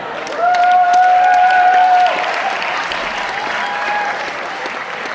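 A crowd applauds steadily with some cheering, loud at first and then easing slightly while continuing to the end.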